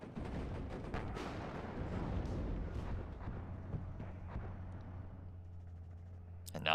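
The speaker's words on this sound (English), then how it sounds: "Do get a fuel explosion on that one" In the WARNO wargame, a vehicle's fuel detonates amid artillery fire, producing a dense, rumbling roll of booms and blasts that gradually fades into a low, steady hum.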